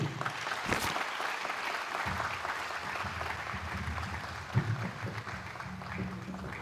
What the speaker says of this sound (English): Another round of applause for Mr. Kisiege